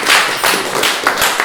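Audience at an evening play's fourth performance breaking into applause, a dense burst of close hand claps with a few louder individual claps standing out, lasting only a moment.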